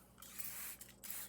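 Water is misted from a spray bottle onto watercolor paints in short hissing bursts, faint and close, with two quick pauses between sprays.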